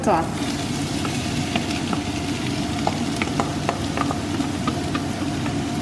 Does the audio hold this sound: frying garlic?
yes